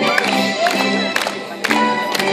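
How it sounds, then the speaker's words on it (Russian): Audience applauding and cheering at the opening ceremony of a children's summer camp Olympics, steady crowd clapping with brief shouts, fairly loud and continuous, with an announcer's voice over it. "Наши аплодисменты."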